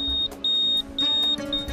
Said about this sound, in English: so we can hear a beep